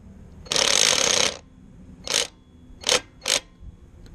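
A ratchet tightening a bolt on a mini bike foot peg: one long, steady burst of clicking, then three short clicking pulls with brief pauses between, close up and alone.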